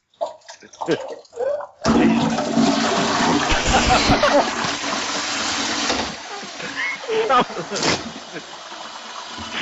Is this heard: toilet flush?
yes